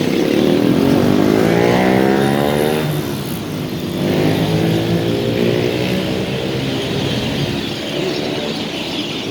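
Motorcycles and road traffic in a Thai suburb roar steadily and loudly close by, with engines rising and falling in pitch as several bikes pass, accelerate and ease off without a break.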